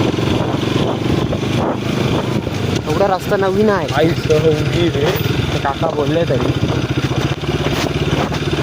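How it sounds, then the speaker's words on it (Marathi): Hero Xpulse 210 off-road motorcycle being ridden, its steady low engine drone running close throughout beneath someone talking over it. "इथे माझी बाईक चालवायला का मजा आहे माहिती. ऑफरोड वाली एक्सप्रेस 210."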